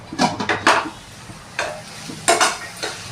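Onion pieces fry in a pan, making a low background sizzle broken by loud, scraping bursts of stirring against the pan, clustered early and again near the end, with no speech.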